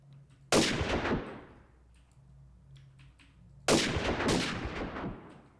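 Two loud, sharp sniper rifle shots in a blocky Minecraft battle-royale game styled after Fortnite, each with a long ringing decay, spaced about three seconds apart with a quiet gap between them.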